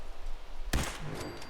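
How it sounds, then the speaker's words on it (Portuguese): A single sharp, loud gunshot cracks out in Fallout 4 during the Battle of Bunker Hill, followed by a brief ringing tail and scattered faint game effects. "Mal nasci já vai tomar tiro na cabeça."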